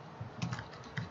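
Computer keyboard keys pressed for a Ctrl C copy shortcut, a few soft, close taps in quick succession over a faint background hiss.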